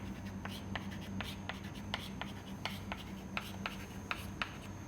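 Steady writing strokes, scratchy and evenly paced, repeat across a few seconds as a pressure diagram is drawn during a fluid mechanics lecture on the integral momentum theorem, over a low room hum.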